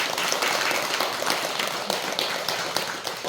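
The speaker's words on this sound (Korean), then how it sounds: "박수로" An audience at Baengnyeonam hermitage, Haeinsa temple, applauding a talk on Seongcheol Sunim's teachings, a continuous close crackle of many hands clapping, fairly loud and even from start to finish.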